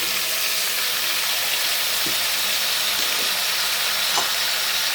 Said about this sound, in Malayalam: ഇനി നമുക്കിതൊന്ന് വഴറ്റിയെടുക്കണം